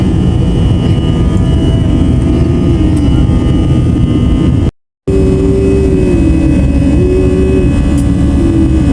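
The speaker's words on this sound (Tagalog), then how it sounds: "nag-take off na rin po yung airplane na sinasakyan natin" A passenger airplane takes off on a flight to Cebu, heard from inside the cabin as a loud, steady engine roar with shifting tones, cut by one brief silent gap and carrying on unchanged afterward.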